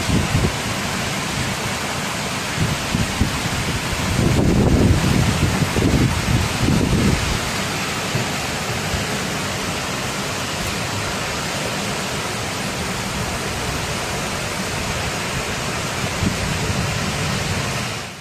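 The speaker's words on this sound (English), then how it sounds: "Thunderstorms, accompanied by strong winds and heavy rain, struck the region, causing damage in many towns." A thunderstorm with strong winds and heavy rain gives a steady broadband roar of rain and wind, buffeting harder for a few seconds near the start and then holding constant, with no voices.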